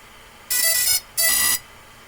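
Two short bursts of bright electronic beeping tones from a 7-inch FPV drone's ESCs starting up after firmware flashing, each about half a second, separated by a brief pause, close and clear with no other sound.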